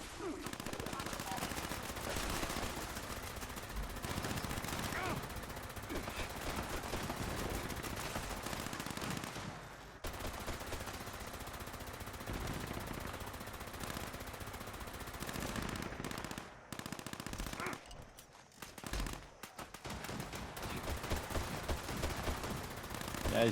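Rapid sustained automatic fire from a Gatling laser in Fallout 76, a dense continuous burst running loud and steady for most of the stretch with brief breaks near the end.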